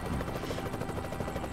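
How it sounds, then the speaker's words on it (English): A helicopter flies in a video game while cruising around Little Rock, Arkansas, giving a faint, steady rotor thrum that stays constant at a moderate distance with no one talking. "Helicopter, that's topical."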